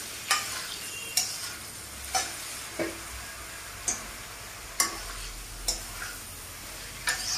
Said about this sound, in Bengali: এবার সেটাকে ভালো করে নেড়ে দেব।